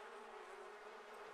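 Bees buzzing around a beekeeper in The Sims 4 Seasons, a steady droning hum that stays faint but constant, with no voices over it.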